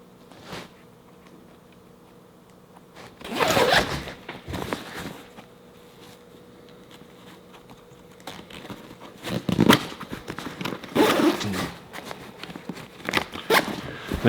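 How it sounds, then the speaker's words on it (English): Zippers on Eberlestock side bags are run along the Mainframe backpack frame in several short, raspy bursts, with handling rustle between them, close and fairly quiet. "They zip into the mainframe just like the Vapor did."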